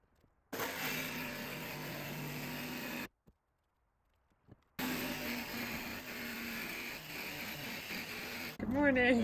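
A power tool cuts through a van's metal body panel for a window opening, giving a loud, harsh grinding buzz in two long bursts split by a brief pause, ending with a short squeal.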